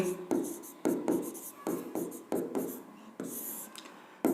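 A pen or marker writing out a simple-interest maths problem: a run of short scratchy strokes in an uneven rhythm, close and fairly clear, with brief pauses between bursts.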